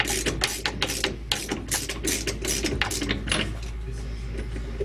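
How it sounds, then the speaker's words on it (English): A 3/4-inch socket wrench works a bolt loose from a Steinway piano crate, giving a quick series of bright metallic ratcheting clicks in bursts, fairly close but quiet. "You need your 3/4-inch socket again to remove the bolt."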